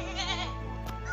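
A young goat kid gives one long, wavering bleat close by, over a steady low hum, with no talking.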